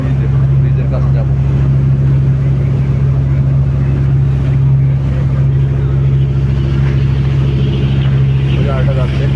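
A speedboat engine out at sea near Thailand gives a loud, continuous droning roar with rushing water, holding steady throughout, with faint voices in the background.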